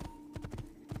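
Rapid horse hoofbeats in Assassin's Creed II clop in a quick galloping rhythm, several hits in about a second, close and crisp over a faint steady hum.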